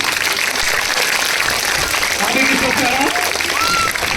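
Steady applause from a crowd of children and teachers at a school pre-Christmas celebration for Santa Claus, loud and continuous throughout, with voices mixed into the clapping.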